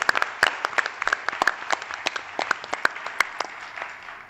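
Audience at a public meeting in Suffolk County, New York breaking into applause, a burst of sharp, close claps from a small crowd that tapers off over several seconds.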